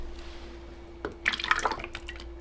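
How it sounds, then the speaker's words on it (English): Liquid soap batter is poured into a container in a quiet room, heard as a short burst of close, wet, splashy dribbling over a steady low hum. "I will pour at 1 liter first"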